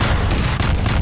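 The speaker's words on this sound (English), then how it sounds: "maybe without the gunshots." Heavy, booming gunshot sound effects fill a one-second stretch with dense, loud low-end blasts in quick succession.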